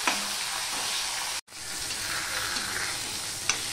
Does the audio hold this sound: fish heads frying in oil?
yes